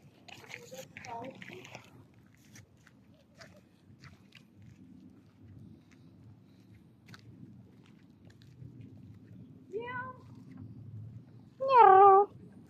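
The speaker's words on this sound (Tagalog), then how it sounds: "Meow. Meow, meow." A couple of short meows rise near the end, the last one louder and clearer, after quiet background chatter.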